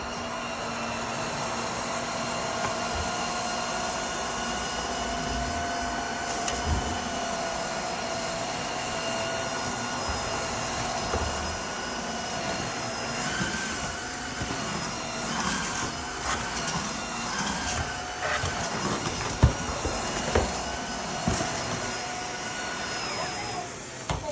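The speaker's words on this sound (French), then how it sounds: "j'allume de nouveau l'aspirateur. Mode auto." A Tineco S5 Pro wet floor vacuum running in auto mode, spraying water while sucking up spilled sugar, gives a steady loud whining motor drone with a high-pitched tone, continuous throughout, with faint clatter of debris being picked up.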